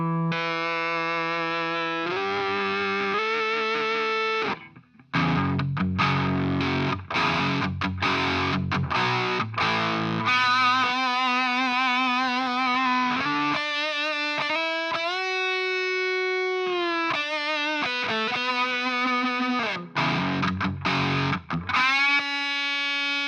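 A BOSS MS-3 guitar multi-effects pedal running a feedback effect: distorted guitar notes sustain and swell into singing, pitched feedback tones, with choppy bursts of chords between long held notes, played alone without talk.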